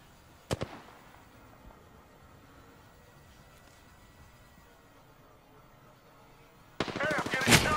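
Sharp bursts of gunfire in the Apex Legends battle royale game: a single loud crack early on, then near-silence, then a rapid close volley of shots near the end.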